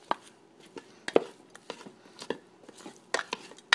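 Utensil scraping and knocking inside a pot while chicken tortilla soup ingredients are stirred together, a string of sharp irregular clinks and taps at close range with no talking.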